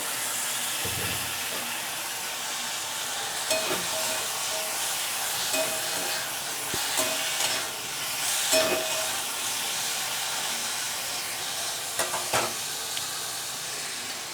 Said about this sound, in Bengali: এবার ভালো করে নাড়িয়ে নেব এখানে একটা টমেটো কুড়ানো আছে সেই টমেটো কুড়ানোটা দিয়ে দিলাম